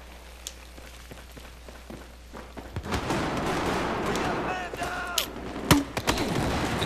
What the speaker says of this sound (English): Somebody shooting me.